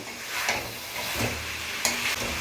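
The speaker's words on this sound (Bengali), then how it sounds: "এবার মাছ আর এই মশলার সংমিশ্রণে মাছটাকে আমরা ভালো করে মশলার সাথে মিশিয়ে নেব," Bhetki fish being stirred and fried with spices in a pan, a steady sizzle broken by a few scraping stirs, close up with no voices.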